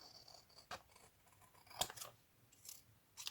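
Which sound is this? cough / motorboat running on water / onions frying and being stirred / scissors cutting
scissors cutting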